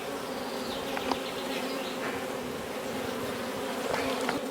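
Honey bees buzzing around an opened hive during a colony split after swarming: a dense, continuous drone of many insects, steady and close, with occasional louder passes near the microphone and no talking.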